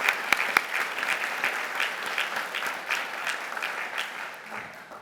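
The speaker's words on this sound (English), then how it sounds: "I think we deserve a hand clap for this proclamation." An audience at a school board meeting applauds steadily, a soft, continuous patter of many hands with a couple of sharper claps early on, tapering off toward the end.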